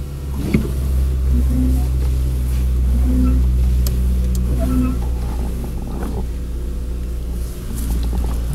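A car engine revived after about seven years of sitting idles roughly with a deep, uneven rumble, air still in its system, running loud and close with faint clatters and brief voices in the background.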